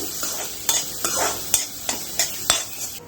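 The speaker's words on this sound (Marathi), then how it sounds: "बारीक चिरलेली मिरची कांदा आणि मिरची व्यवस्थित भाजून घेऊयात आपण" Finely chopped onion and green chili fry in a pan, a bright continuous sizzle broken by regular scraping stirs of a spatula about every third of a second, close and fairly loud.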